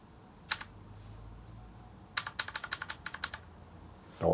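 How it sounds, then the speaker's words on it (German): Keys tapped on a computer keyboard, including the F1 key: one isolated click, a pause, then a quick run of about a dozen crisp, evenly spaced keystrokes close by, ending in a brief rustle, with no voices. "ich drücke jetzt auf meiner netten Tastatur F1"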